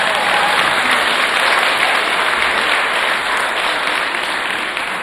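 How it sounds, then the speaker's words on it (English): Audience applause at a fifth grade moving-up ceremony, a dense, loud, steady wash of clapping from a large crowd that holds for about five seconds and tapers slightly at the end. "let's give Mrs. Farley a round of applause"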